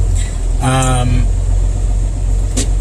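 A truck's diesel engine is held at 1,000 RPM during an air brake test, giving a steady, loud low rumble throughout. A brief tonal buzz sounds near the start.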